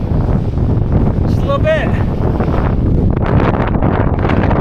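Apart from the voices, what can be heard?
strong wind on a mountain ridge hike near Banff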